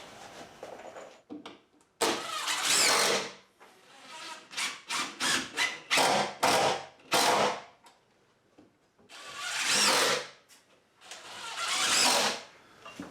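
A power drill drives screws into a wooden chicken brooder in a series of close, loud bursts, some long whirring runs and several short rapid pulses with quiet gaps between.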